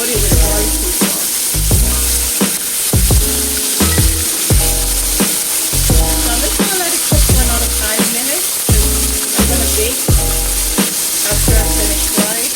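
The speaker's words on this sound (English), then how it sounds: "the chicken is frying just how I want it" Skinless chicken pieces frying in oil for barbecue chicken, a loud, steady sizzle and crackle with repeated sharp clatters of stirring or turning throughout, no voices.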